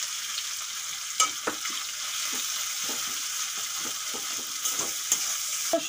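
Prawns and onion fry in a pan as ginger-garlic paste goes in, a constant bright sizzle broken by scattered scraping stirs and soft knocks.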